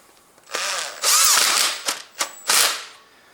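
A power tool whirs in a few short bursts, tightening a locking bolt on a Honda Civic ignition coil, with brief pauses and clicks between the nearby runs.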